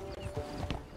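Horse hooves clop briefly and faintly in Red Dead Online, a quick, quiet patter of a few hoofbeats.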